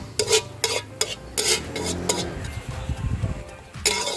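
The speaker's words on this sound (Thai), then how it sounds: "ตักกระเทียมขึ้นมาให้เกลี้ยงเลยนะคะ" Crispy golden fried garlic being scooped out of hot oil after the gas is turned off. Bright metallic clinks of a ladle against the pan repeat over a low, fading sizzle.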